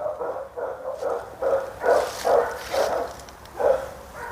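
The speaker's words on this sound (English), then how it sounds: "sorry about these dogs barking, honey, but they be barking" Several dogs bark outdoors in a garden, a run of repeated barks and yips at moderate distance, fairly loud and without talk over them.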